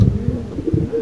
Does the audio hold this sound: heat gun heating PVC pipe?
no